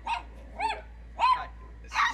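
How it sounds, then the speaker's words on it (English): Dogs bark at strangers outdoors, giving four short, sharp barks spaced about half a second apart at moderate distance, with no voices over them. "Yeah, the dogs, are disconcerted by strangers."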